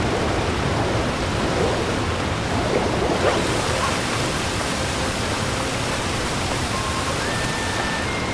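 A waterfall in the Super Mario Odyssey video game gives a loud, constant rushing of water that fills the whole stretch without pause.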